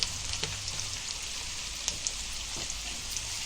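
Chopped onions fry in hot oil for a radish-greens bhaji, giving a steady, close crackling sizzle with a few sharper pops and no voices.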